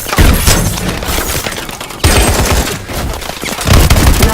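Loud main gun firing in Call of Duty: Advanced Warfare, dense rattling bursts in two long rapid volleys with a short break between them.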